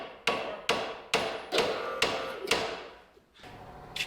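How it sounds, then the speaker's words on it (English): A hammer pounds a tight, stuck part on a vintage 1964 Dodge during a 12-valve swap, six sharp metallic blows at a steady half-second rhythm, close by, followed by a lighter tap. "I got a hammer up here"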